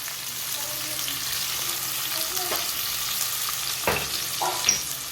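Onion, tomato and capsicum sizzle in hot oil with a steady broad hiss, broken by a few sharper clinks and scraping stirs near the end.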